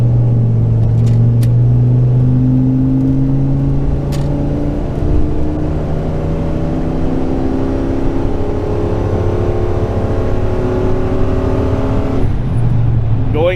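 A Ford Econoline van with a 6.8-litre V10 accelerates up a grade, its loud, steady engine drone rising in pitch through long pulls with gear changes, heard close from inside the cab over constant road rumble.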